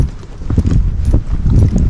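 Hooves of a gaited horse, a light, sensitive mare, walking a downhill trail, a close, steady clip-clop of irregular low thuds running continuously under soft outdoor noise.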